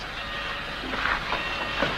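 An old passenger train with a back platform rumbles as it begins to move, a steady heavy rolling noise with soft clanks and hissing bursts rising over it.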